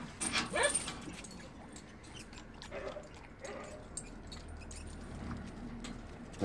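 A German shepherd guard dog whimpers and yips faintly at a distance, short high whines spread through the clip over quiet background rustle and an occasional jangle.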